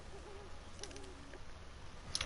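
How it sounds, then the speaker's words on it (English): An owl in Horizon Zero Dawn gives two soft, wavering hoots in quick succession, distant and faint over a quiet outdoor game ambience, followed by a brief rustling click. "And there's an owl nearby."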